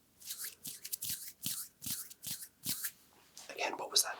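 Rummaging, rubbing sounds made close to one ear during an ASMR medical exam, a series of brisk brushing bursts with short gaps between them, then a softer rustling stretch at the end.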